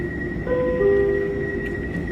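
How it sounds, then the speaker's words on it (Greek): A metro train at Fleming station sits under a steady mechanical hum while a short tonal door-warning chime sounds, then the car drones on as it begins to pull away. "Εδώ θα κλείσουν οι θύρες για να φύγουμε στην ανάληψη"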